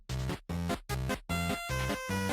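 The Papyrus theme from the video game Undertale plays as a short, bouncy chiptune-style passage of loud, choppy note bursts separated by brief gaps.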